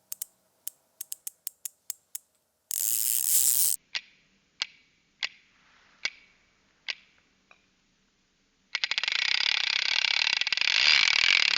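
Sharp ratchet clicks from a Hope Pro 5 bicycle hub freehub tick in a slowing sequence, separated by bursts of loud whirring buzz as the mechanism spins quickly, close and crisp.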